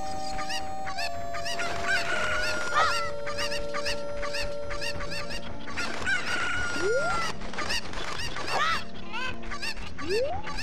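Chickens cluck and squawk in the Zelda Ocarina of Time video game, repeated clucks and crowing calls over continuous game music and sound effects, steady and loud throughout with no talk.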